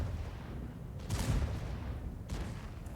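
Tank cannon fire in World of Tanks on the Malinovka map: two sharp, booming shots about a second apart over a steady low engine rumble.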